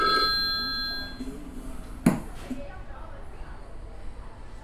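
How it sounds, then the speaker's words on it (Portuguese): A mobile phone rings through a speaker box in a restaurant serving smash burgers, a short electronic tone at the start fading under talk, followed by a sharp knock and continued conversation. "tá tocando o telefone, hein?"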